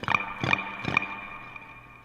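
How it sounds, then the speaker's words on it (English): Guitar through a delay effect: three plucked tones, evenly spaced about 0.4 seconds apart, each ringing with repeating echoes that fade out over the final second. "Got some cool delay sounds there, though."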